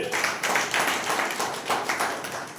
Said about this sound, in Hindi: जोरदार प्रभु के लिए ताली बजाइए